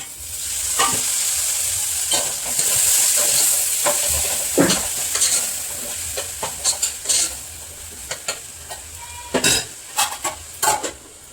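Tomatoes frying with chili powder for a curry in a metal pan, a steady close sizzle broken by repeated sharp clinks and scrapes of a spoon stirring against the pan.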